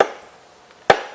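A single dull, hollow thud from a tap on loose rock in an iron mine roof, sharp and close, followed by a quiet pause with faint room noise.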